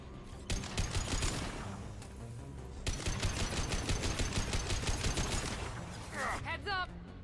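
Video game gunfire in rapid automatic bursts, loud and close, with two long rattling volleys separated by a short pause and a voice talking over the shooting.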